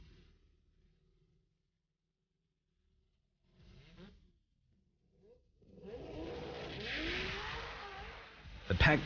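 A Pack Performance MX-6 drag racing car in the Pro rear-wheel drive class makes a run: after quiet stretches with a few short engine bursts, a loud, sustained roaring engine note builds and swells, peaking in a sharp burst at the end.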